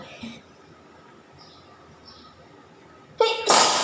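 A sneeze from someone with flared-up allergies during cool, dry weather while cooking stir-fried noodles in a kitchen, a sudden loud burst near the end after a faint earlier sniff over quiet room noise.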